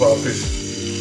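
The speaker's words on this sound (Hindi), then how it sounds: "मछली फ्राई करें और हल्की आंच रखनी है आपने" Fish sizzles and fries in a little hot oil on a tawa over low flame, a steady close crackle with a brief spoken phrase over the start.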